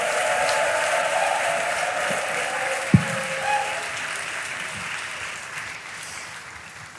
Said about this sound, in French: Acclamons le Seigneur très fort.